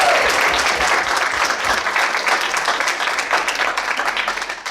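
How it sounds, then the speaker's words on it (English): An audience at an improv comedy show breaks into a round of applause, a dense, loud wash of many hands clapping that holds steady for several seconds before tapering off at the end. "Let's just round of applause and she's out."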